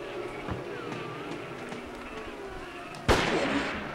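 A single loud gunshot booms from Forbidden Siren after a stretch of quieter game ambience with a faint tone and soft thuds, then decays slowly.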